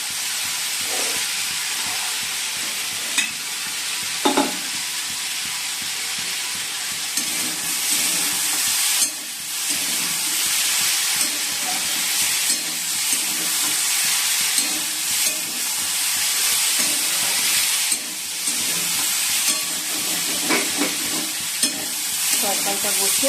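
Potato curry with tomato and green chilli frying in a pan on the stove, a loud continuous hissing sizzle with occasional stirring clinks and scrapes, steady throughout with no talk.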